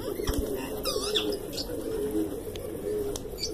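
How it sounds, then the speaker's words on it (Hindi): Pigeons cooing in low, repeated murmurs, with a few sharper chirps and faint rustling nearby. "ये देखें यहाँ आ रहे हैं कबूतर"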